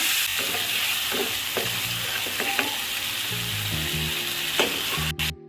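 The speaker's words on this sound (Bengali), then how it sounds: "এখন আমি মশলাগুলো কষাবো।" Spices and bay leaves sauté in hot oil in a pan for a Bengali fish head and cauliflower curry, a dense close sizzle with occasional stirring clinks and scrapes, and no voices.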